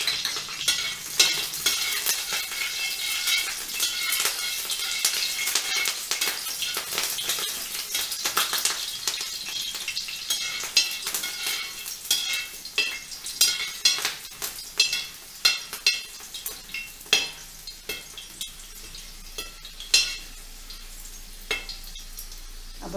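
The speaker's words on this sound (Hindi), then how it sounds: "जैसे ही थोड़ा ये गर्म हो जाए हम इसमें हरी मिर्ची कटी हुई वो डाल देंगे।" Chopped green chillies sizzle and crackle in hot oil, a bright steady hiss with spoon-on-pan clinks and stirring scrapes growing more intermittent toward the end, close and fairly loud with no talking.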